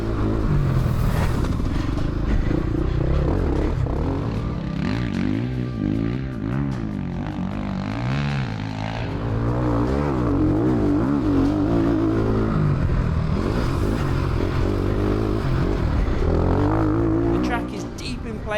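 A Ducati Desmo 450 dirt bike engine revs hard and steadily on a rough, bumpy motocross track, the loud, continuous roar rising and falling with throttle changes throughout, with a voice heard over it.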